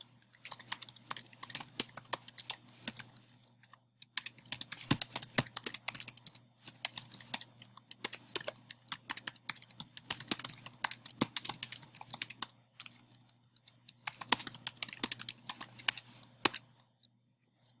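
Rapid clicking keystrokes on a computer keyboard as a comment is typed in bursts with short pauses, close and fairly quiet, no talking, a faint steady hum underneath.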